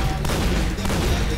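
Video game gunfire fired by a macro on a Razer DeathAdder 2013 mouse: a loud, dense, unbroken burst of rapid shots filling the whole short stretch.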